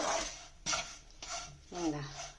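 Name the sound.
ragi flour and semolina being roasted and stirred in a pan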